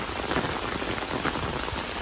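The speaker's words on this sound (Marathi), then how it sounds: "जोराचा पाऊस चालू आहे आता" Heavy monsoon rain in Mumbai pours down steadily, a dense hiss of drops beating on surfaces, loud and continuous with no other sounds.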